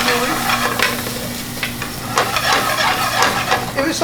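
Tomato puree frying with caramelised onions in a pan while a lamb balti is cooked restaurant style, with steady close sizzling and repeated scraping stirs throughout.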